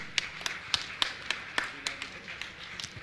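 Brief rhythmic claps at a Jain religious talk session honouring guests, about ten spaced, crisp slaps in a steady beat, fairly close and alone without talk.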